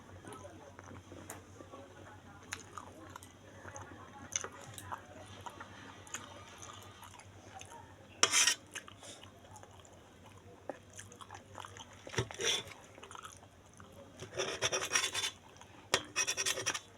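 Someone chews hot steamed momo dumplings up close, soft wet mastication with a few sharper bites, quiet at first and louder toward the end, with a steady low hum behind.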